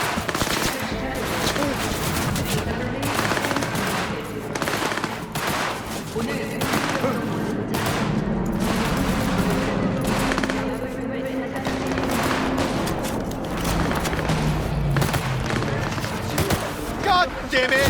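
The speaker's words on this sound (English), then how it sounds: "I'm under fire!" Sustained gunfire in the Cyberpunk 2077 video game, dense rapid bursts and shots going nonstop over about eighteen seconds with other game sounds mixed in.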